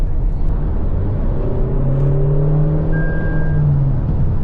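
A Toyota Innova Hycross ZX accelerating, heard from inside as a loud, steady engine drone with a rising tone under a constant road rumble, no voices.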